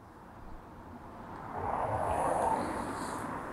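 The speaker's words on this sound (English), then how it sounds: "So that is purely the road noise from the tyres at 20 miles an hour" A Renault Zoe electric car passes at 20 mph with only its tyre road noise: a soft broadband rush that swells to a peak mid-pass and then eases slightly, fairly faint and alone.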